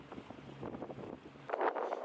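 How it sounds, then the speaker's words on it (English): Strong wind buffets the microphone out at sea on a fishing boat in the shallows, a steady low roar with gusts and a louder burst near the end, no talking. "she's super windy"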